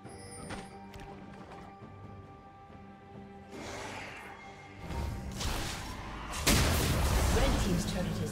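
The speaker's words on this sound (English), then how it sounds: "Red team's turret has been destroyed" A League of Legends turret collapses with a rising rumble and heavy crashing debris, building into a loud sustained blast amid game effects, with faint speech underneath.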